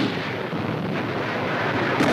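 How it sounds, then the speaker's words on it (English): Enemy gunfire in South Pacific jungle warfare against dug-in positions comes through as a continuous rumbling, noisy wash of heavy fire in an old wartime newsreel, loud and steady with no distinct separate shots. "The motion picture camera has never been closer to the deadly fire of enemy guns"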